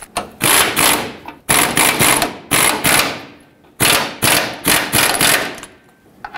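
A pneumatic impact wrench snugs control arm mounting nuts on a 2007-2014 Chevrolet Silverado 2500 HD, firing in loud, rapid hammering bursts, several short rattling runs separated by brief pauses.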